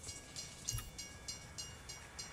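A train in Hitman: Absolution rolls past steadily, with rhythmic clickety-clack beats from the wheels at an even pace, moderately distant and fairly quiet.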